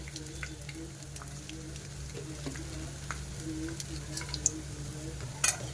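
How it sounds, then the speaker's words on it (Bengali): Black cumin seeds and a little cumin sizzle in hot oil in a wok, a soft steady crackle with scattered pops and a low background hum, ending with a few sharper clicks. "কড়াইয়ের মধ্যে আমি প্রথমে দিয়ে দিচ্ছি ফোড়নে কালো জিরে"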